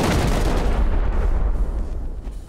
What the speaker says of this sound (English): Let's blow the compound out here.